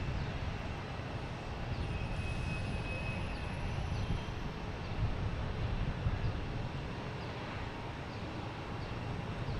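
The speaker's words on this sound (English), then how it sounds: "Next taking off is Delta heading to Memphis," A Delta Embraer E175 regional jet taking off at Boston Logan Airport, a broad steady engine roar with a rising whine, heard from a distance with wind noise.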